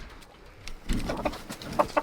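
Chickens cluck in short bursts as they are put out of the coop, a few nearby calls rising over a quiet background, with soft scuffling.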